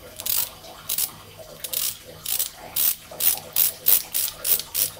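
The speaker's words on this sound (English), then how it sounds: "Let's run our tap wrench back down just a little further." A ratcheting tap wrench cuts threads in aluminum while fitting a tube on an 18 hp Evinrude outboard, giving about a dozen rhythmic bursts of close, crisp clicking.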